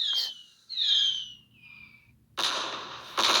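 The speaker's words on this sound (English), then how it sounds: "And set off, dear fireworks." Video game fireworks: a rising whistle followed by bright crackling bursts that pop and sizzle in quick succession, fairly loud with no talk.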